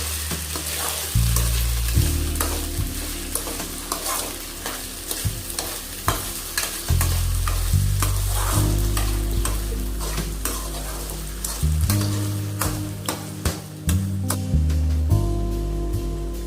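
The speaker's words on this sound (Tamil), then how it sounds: "சீனி போட்டு நல்லா வதக்கணும்." Sugar sautéing in a pan for sago kesari, with steady frying sizzle and repeated scraping stirs close by, some low tonal hum running underneath throughout.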